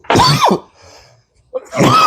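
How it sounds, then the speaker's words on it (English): A sharp, loud sneeze burst up close, triggered by Tony's seasoning while seasoning brisket, followed by a quiet pause and then a second forceful vocal burst. "that Tony's always made me sneeze every time."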